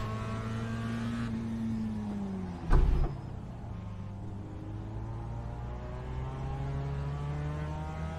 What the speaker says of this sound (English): Big wheel spin off the line.